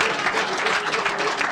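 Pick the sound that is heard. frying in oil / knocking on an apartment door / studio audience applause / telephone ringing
studio audience applause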